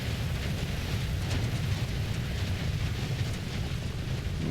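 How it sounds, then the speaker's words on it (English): AH-6 helicopter lifting off in Arma Reforger, a steady loud rotor and turbine roar with deep low thumping that holds constant throughout, no talking. "So we'll go ahead and take off here."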